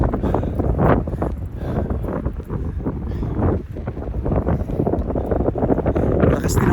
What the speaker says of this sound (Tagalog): Lakas din ang hangin. Malamig ang hangin.